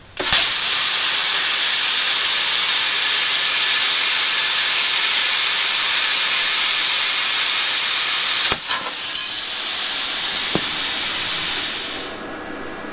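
A Bestarc BTC500DP plasma cutter running at 20 amps cuts 18 gauge sheet metal with a loud, continuous hiss. A sharp click comes near the end, then the airflow tapers off.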